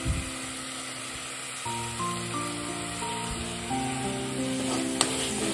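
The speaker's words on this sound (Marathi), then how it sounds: "हे चांगलं परतून घेते मी तेलामध्ये. तर आता यामध्ये मी जिंजर गार्लिक पेस्ट टाकते थोडीशी" Tomato puree and ginger garlic paste frying in oil, a steady loud sizzle throughout with a thin stirring scrape, heard up close and alone.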